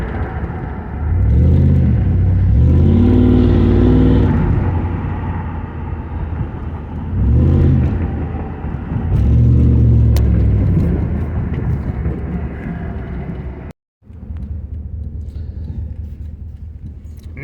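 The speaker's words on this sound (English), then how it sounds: "Now that I got the Trans Am running, I'm just out playing on a back street." A Pontiac Trans Am with an MSD ignition box idles loudly on a back street with a deep, steady rumble, rising in several revving surges before settling back to idle.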